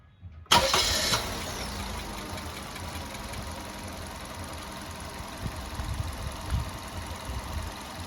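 A car engine cranks and fires after a brief quiet, then settles into a steady idle that runs on with small surges, close by and with no one talking.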